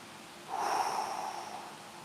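A single long breath is let out through the nose after being held, close and soft, easing off over about a second and a half in a quiet outdoor garden setting.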